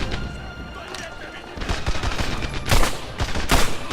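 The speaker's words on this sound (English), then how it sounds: "he's on the machine gun now" Machine gun bursts in Medal of Honor: Airborne, rapid gunfire crackling in loud repeated volleys over a busy battle backdrop, growing denser toward the end.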